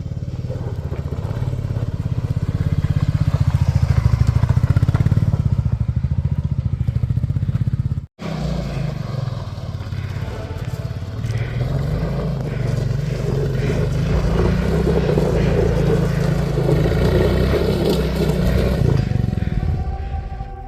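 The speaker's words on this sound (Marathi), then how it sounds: "कारण गाडी स्किट करते." A motorcycle stuck on loose, crumbly soil on a steep ghat track in the Satpuda hills revs hard and close, its engine droning and surging with wheel-spinning strain and one brief cutout partway through.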